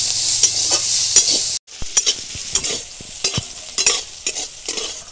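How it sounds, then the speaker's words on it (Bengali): Chopped onion frying in oil with panch phoron and dried red chillies, a bright close sizzle broken by a short gap, then repeated scraping stirs that knock against the pan. "ভালো করে ভেজে নেব।"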